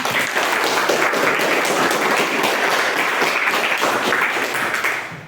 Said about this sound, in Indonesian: sekarang kita berikan apresiasi dulu untuk diri kita sendiri ya, tepuk tangan